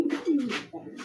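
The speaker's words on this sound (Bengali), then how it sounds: "একদম ফ্রেশ কবুতর।" Giribaz pigeons, a fancy Bengali breed, coo in soft low bursts nearby, a few rolling calls over about a second with brief pauses between them.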